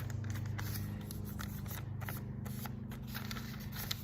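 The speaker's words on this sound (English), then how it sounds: "So let's fold that in half again." A paper strip folded in half makes soft, close creasing and rustling scrapes in irregular bursts over a steady low hum.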